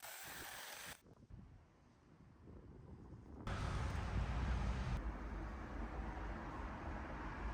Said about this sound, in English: I'm not going to record any talking because it's too windy.